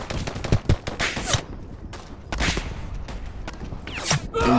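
Rapid gunfire from a weapon in the video game Polyfield, loud close shots and short bursts cracking repeatedly in an uneven rhythm with brief pauses, with no talk over it.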